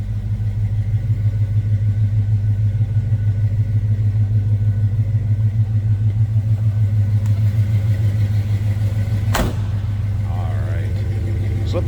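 A 1985 Chevrolet K10 Custom Deluxe 4x4 pickup truck engine idles steadily with a low, even rumble, close and continuous, with a brief clunk near the end.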